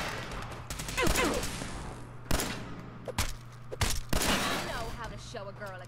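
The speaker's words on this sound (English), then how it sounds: "Slow-mo shooting." Slow-motion VATS gunfire in Fallout 4, several sharp shots spaced irregularly over a continuous low game hum, with a voice talking over parts of it.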